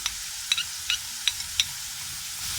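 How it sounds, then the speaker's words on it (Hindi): Spoon stirring ground black pepper, salt and garam masala into chicken frying in a pan, making about five light, quiet scrapes and clicks spaced across a low, steady sizzle, with no voices. "सब मसाले अब हम इसमें मिक्स कर देंगे अच्छे तरीके से।"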